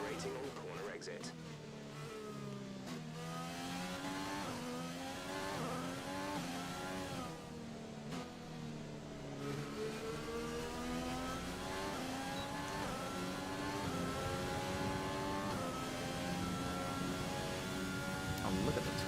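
A Formula 1 car in the racing game F1 2020 howls through repeated high-revving climbs and gear shifts, its engine pitch sweeping up and dropping continuously and loudly with no voices.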